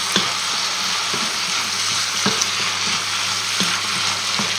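Chicken blanquette with mushrooms frying in a pan, a loud, even sizzle running throughout with occasional soft knocks of a utensil.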